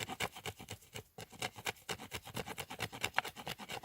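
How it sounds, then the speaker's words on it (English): Steel spine saw of a knife scraping across wood grain, a close, steady series of rasping strokes in quick rhythm with a brief pause near the start, no talking. "So what I want to do, I'm scraping material which is here"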